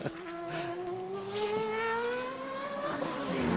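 A GP2 race car engine on Lewis Hamilton's lap in Hungary, a high, steady whine that holds its pitch and then rises slightly, fairly faint and distant, with no talk.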